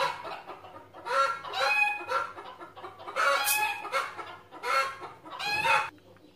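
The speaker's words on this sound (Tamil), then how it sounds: "எங்கள் வீட்டில் கோழி நிறையா இருக்கனால அது அது ஒன்றோட ஒன்று சண்டை போட்டு சத்தம் கொடுக்குதுங்க" Several chickens cluck and squawk in agitated bursts, overlapping calls rising and falling close by, with brief quieter gaps between flurries.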